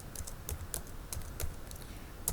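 Fingers tap steadily on a computer keyboard while text is entered into Microsoft Word, a close, fairly loud run of clicking keystrokes with an occasional heavier key press.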